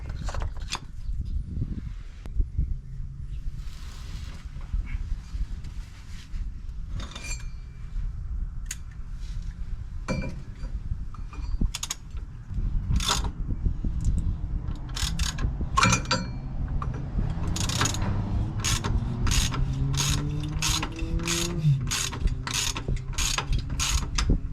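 Toyota Tundra iForce V8 oil filter being screwed in by hand, a long run of soft ratcheting clicks, scrapes and mechanical handling noises up close.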